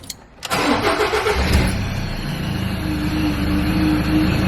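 A Ford Ranger engine cranks and restarts after an oil service, then settles into a steady, loud, close idle that holds to the end.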